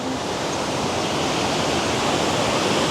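Water gushing through the sluice of a large village reservoir tank with a 32-foot capacity, a loud, steady broadband roar that holds constant throughout with no voices.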